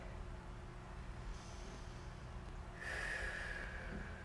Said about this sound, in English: So really dig deep into that breath, breathing in through your nose.